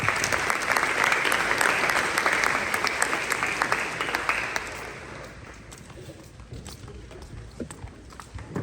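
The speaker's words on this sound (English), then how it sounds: "Please give them a round of applause." Audience clapping at a high school sports awards ceremony, a dense, lively round of applause that gradually thins and fades toward scattered claps.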